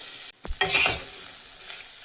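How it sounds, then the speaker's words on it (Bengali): Okra stir-frying together with other vegetables in a pan for a vegetarian dish: a soft sizzle under scraping stirs, with a couple of louder clatters near the start and no voices. "এখন ভেন্ডিটাকেও সবগুলোর সাথে সুন্দর করে একটু ভেজে নেব"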